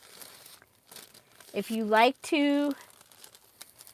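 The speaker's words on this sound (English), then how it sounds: "sound, parchment paper is a great sound." Sheets of parchment paper cut to 8 by 8 crinkle and crunch in a few short rustling bursts, close and clear, with a person talking over and between them.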